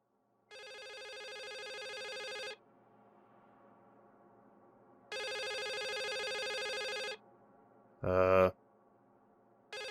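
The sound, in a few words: telephone ringing in the video game The Suicide of Rachel Foster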